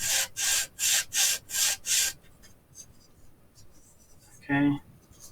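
Six quick, even rasping strokes of sandpaper flattening a small part of a model house, close and crisp, followed by quiet handling noises and a brief knock.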